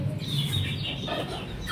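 Several chickens clucking and murmuring close by, a continuous low, throaty chatter with a few sharper calls, no talk over it.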